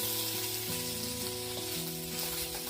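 An egg fries on a kerosene hobo stove, a dense continuous sizzle close up with a low steady hum beneath, no talk.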